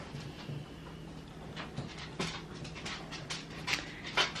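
A dog walks about a room, its panting and soft whimpering breaths coming in irregular bursts over a low steady hum, close and moderately loud, with no talking.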